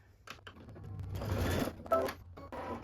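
An embroidery machine stitches a trimming placement line on a pieced fabric block, running in short, quiet bursts of rapid mechanical whirring with brief pauses between them.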